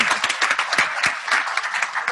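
A panel audience at a conference on noncommunicable diseases breaks into a round of applause, close, dense, rapid clapping that stays loud and even throughout.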